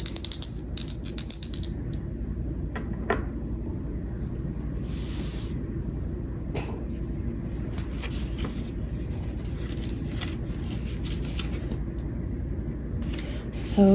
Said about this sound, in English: Maybe we should ring a bell.